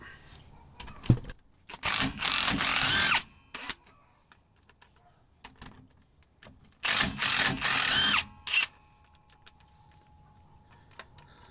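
A power tool runs in two bursts of about a second each, zipping out the rear differential cover bolts on a Chevrolet Colorado or GMC Canyon, with faint ticks and tool handling in the quiet gaps between.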